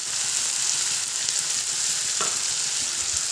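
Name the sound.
stirring turmeric and salt in cooking pan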